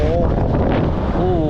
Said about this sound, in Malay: Angin kuat guys.